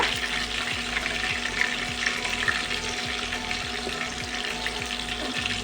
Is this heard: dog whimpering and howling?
no